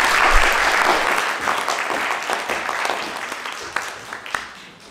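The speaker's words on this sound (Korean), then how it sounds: "큰 박수로 환영해 주시면 감사하겠습니다" An audience at a Korean lecture hall applauds to welcome a retired army lieutenant general to the podium, dense sustained clapping that gradually thins out toward the end.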